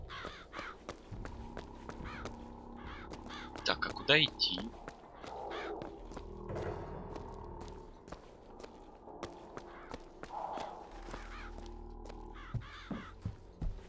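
Crows caw repeatedly in BioShock Infinite, moderately close cries scattered through the scene alongside footsteps, with someone speaking Russian over the game sounds.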